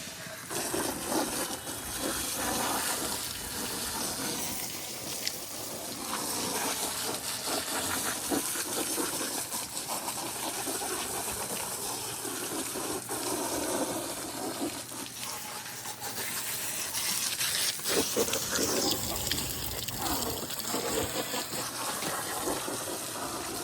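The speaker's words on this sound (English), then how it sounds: "We just wanna get them completely wet, flush them completely down." Water spraying and rinsing a firefighter's pack during post-fire decontamination, a loud continuous gushing hiss that runs steadily throughout with shifting splashes and brief pauses, up close without talk.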